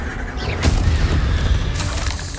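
A Confringo blasting spell in the video game Hogwarts Legacy lands with a loud, close boom followed by rumbling and mechanical clatter, and a second burst of impact noise comes near the end.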